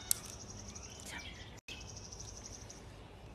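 Birds sing outdoors in a calm setting, thin high chirps and tweets sitting faintly over a quiet background with a soft insect-like hum.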